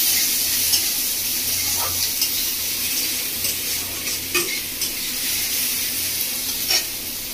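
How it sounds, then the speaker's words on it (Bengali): Chopped onion, ginger and garlic fry in a pan, giving a steady, even sizzle with a few soft scrapes and taps of stirring, and no talking over it. "আদা রসুন পেঁয়াজ খুব ভালো করে ভেজে নেব।"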